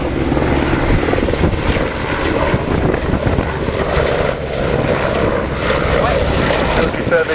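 Twin-rotor Chinook HC2 helicopter turning its rotors at an airshow, a steady loud broadband engine and rotor roar with a low throbbing pulse running through the whole stretch, with a voice talking faintly underneath.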